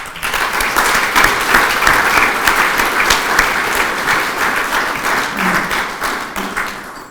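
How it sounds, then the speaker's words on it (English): An audience at the 2024 WPGA Champions Dinner applauds the Players of the Year with dense, steady clapping that stays loud and even from start to finish. "Can we please have another round of applause for our Players of the Year?"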